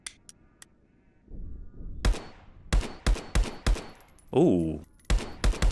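Gunfire from the VR shooter game Contractors on Meta Quest Pro: a sparse run of sharp, loud individual shots in an irregular rhythm, with a short exclamation from a player partway through.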